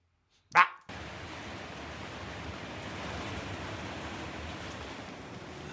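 Steady rain falling on a mid-November day, a constant even hiss that starts abruptly after a brief thump and continues unchanged throughout, with no voices.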